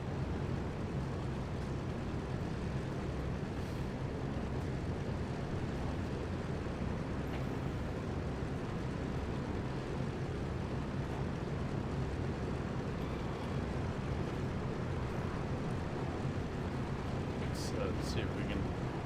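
Douglas DC-3 piston engines running near 1,000 RPM in a flight simulator game, a steady, dense, unbroken engine drone that holds throughout while someone talks over it.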